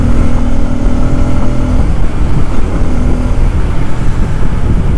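A 2024 Bajaj Pulsar N250 motorcycle ridden on the road gives a loud, steady engine drone mixed with heavy wind rush, with a brief higher engine tone early on and no talking.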